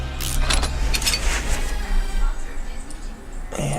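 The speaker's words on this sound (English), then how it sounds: "Remove the oil pan with the wonderful 4 bolts" Rapid metallic ratchet clicking and jingling as oil pan bolts are removed from a 4-cylinder Jeep Willys engine in the video game Car Mechanic Simulator 2018, in short bursts over a steady low hum, close and fairly loud.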